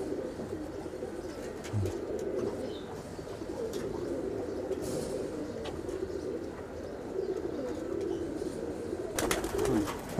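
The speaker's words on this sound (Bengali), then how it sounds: "এটা শিয়ালকুটি কবুতর" Shialkuti pigeons coo in a continuous, soft, overlapping low murmur, several birds together at moderate distance, with occasional faint clicks and flutters.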